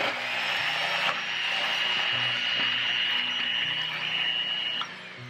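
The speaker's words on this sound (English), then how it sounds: "my blender is a little aggressive and it's gonna spray this everywhere" An electric blender or mixer beats a flour and yeast bread dough mixture with a steady high motor whine and rattling, clattering beaters, running continuously before easing off at the end.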